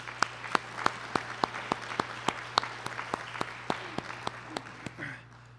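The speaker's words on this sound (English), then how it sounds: "let's give our panelists a round of applause" Slow, evenly spaced claps for the panelists after an online panel discussion, sounding like one or a few people clapping steadily over a low electrical hum before stopping.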